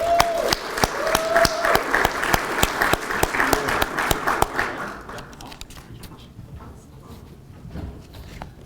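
An audience claps at a graduation awards ceremony as chemistry and other master's students are honoured, dense loud applause for about four and a half seconds before it thins into scattered claps and quiet room noise.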